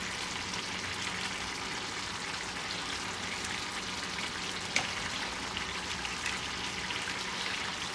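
Thin noodles cooking in a small pan, a soft steady bubbling hiss with faint crackles throughout, quiet and even, with one small clink midway.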